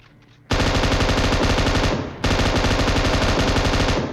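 Automatic gunfire in a shooter video game: two long, dense, rapid bursts of machine-gun fire, loud and close, separated by a brief pause with no talking.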